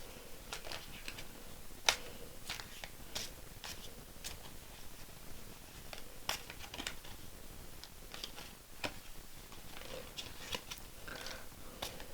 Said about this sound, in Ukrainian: Дуже погано їх тасувати. Їх багато і воно незручно.